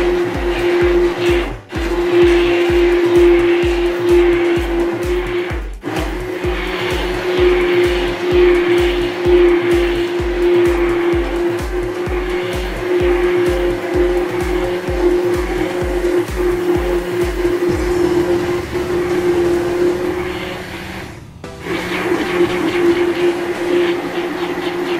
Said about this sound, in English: Blend, I will blend it.